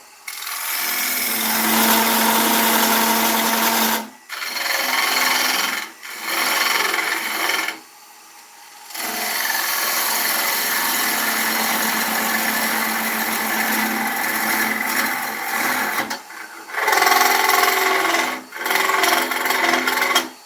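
Ash bowl on a woodturning lathe being cut with a carbide tool, giving a close, loud, raspy scraping that runs in long passes broken by several short pauses.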